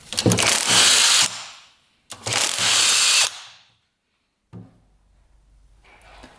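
Two loud, sustained bursts from a power tool backing bolts out of a UTV case, each about a second long, then a short mechanical clunk and quiet.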